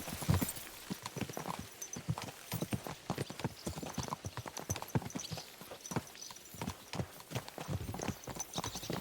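Horses' hooves clip-clop in a steady, brisk rhythm as riders travel together in the video game Kingdom Come: Deliverance 2, the sound alone and moderately close.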